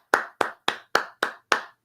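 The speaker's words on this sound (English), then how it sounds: "Let's clap it up for Snowman Sports." Six sharp, evenly spaced handclaps ring out one after another in a quick steady rhythm, close and loud with no talking, a round of applause during a sports betting stream.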